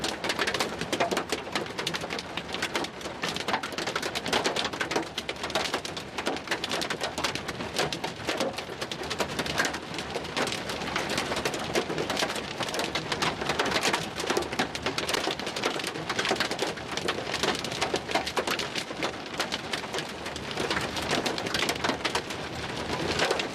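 Hail pounds a vehicle in a monster hailstorm near McCook, Nebraska, a dense steady roar of countless impacts drumming on the body and windshield throughout, loud and unbroken with no talk.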